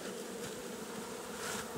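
Steady, dense buzzing of many honeybees close by around a hive, a continuous drone that swells slightly toward the end.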